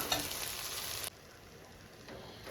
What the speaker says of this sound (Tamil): இப்போ நம்ம இது இது நல்லா வதக்கி கொடுத்துடலாம்